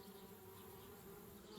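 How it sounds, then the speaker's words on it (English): Bees buzzing near a tree house in the adventure game Anna's Quest, a continuous insect drone with a steady low hum, fairly quiet and unbroken. "Darn bees, trying to move into our tree house."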